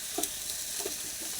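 Boiled potatoes being mashed into a simmering fish curry, soft squelching stirs and a few scraping strokes against a light background sizzle, close and fairly quiet.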